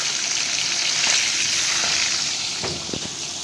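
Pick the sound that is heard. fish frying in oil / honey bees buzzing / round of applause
fish frying in oil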